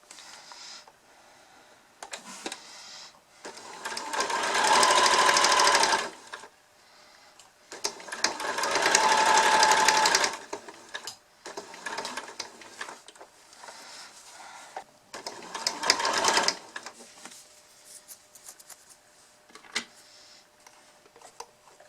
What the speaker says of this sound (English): I'm going to sew down here and then I'm going to pleat the other side as well.